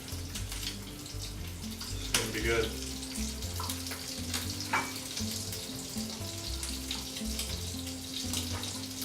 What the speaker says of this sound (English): And that's the sizzle we want to hear.